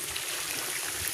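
Steady rushing water pours from a hose and a PVC pipe into a tilapia pond, a continuous broadband wash with no breaks.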